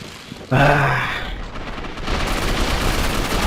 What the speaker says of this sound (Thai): ปืนยิงรัวได้นี่หว่า ยิงรัวได้นี่หว่า